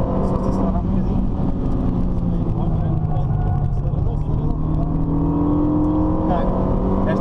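Renault Mégane RS engine heard from inside the car, a steady loud drone whose pitch climbs gradually as it accelerates, with people talking over it.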